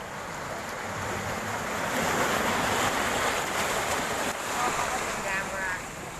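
Sea waves wash and break along Oarai beach in Japan, a broad steady roar of surf near a breakwater, with wind buffeting the microphone and faint voices in the background.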